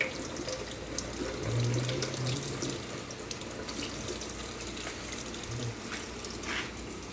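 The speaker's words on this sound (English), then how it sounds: "Anytime you gotta rinse your food off or wash it, always use cold water." Cold tap water runs steadily into a sink as food is rinsed, a continuous close splashing gush with small spattering bursts, no talk.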